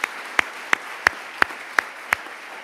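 About seven sharp claps, slow and evenly spaced, ring out in a quiet conference hall as a speaker is welcomed. The claps are fairly faint and sound sparse rather than like a full crowd.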